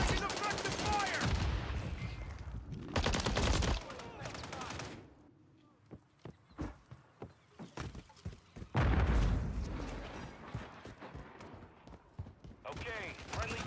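Video game gunfire crackles in bursts of rapid automatic shots and booms, loud and close, with stretches of quieter scattered single shots between heavier volleys, and a voice speaking at times over the combat.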